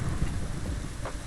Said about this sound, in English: I like how it's panned off to the side where the thunder is